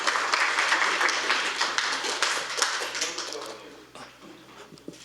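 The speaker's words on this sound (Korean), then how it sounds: "큰 박수로 맞이하겠습니다" Audience applause welcoming a guest speaker at an economics lecture on global financial markets, a steady patter of clapping that fades over a few seconds, moderately distant, with a couple of isolated claps at the end.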